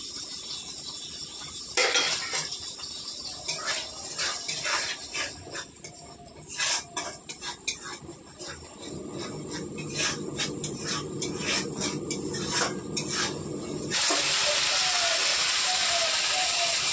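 Poppy seed paste with cashew and green chillies fries in a pan for a Bengali doi katla fish curry, a steady sizzle with scattered clinks and scrapes of a spatula against the pan, growing louder and denser toward the end.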